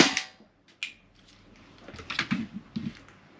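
Marui Gen5 airsoft Glock gas pistol firing a BB through a chronograph: a sharp close snap at the start, a second short pop near the one-second mark, then softer clattering and rattling mechanical noise.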